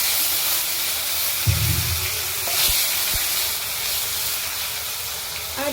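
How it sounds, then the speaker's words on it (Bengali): Chopped tomatoes dropped into hot oil tempered with dried red chilli and cumin seeds, giving a loud, steady steamy hiss and sizzle that holds close throughout, with a brief low thump partway in and no voices. "এবার আমরা এর মধ্যে দিয়ে দেবো টমেটো কুচি"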